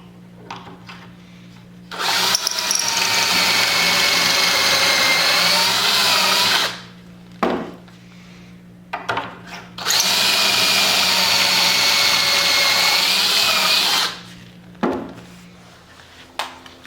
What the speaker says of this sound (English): let me go over and drill these pocket holes